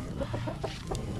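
Chickens of an improved breed kept at a Philippine farm cluck in short, irregular bursts, close and fairly loud over a steady low background hum, with no one talking.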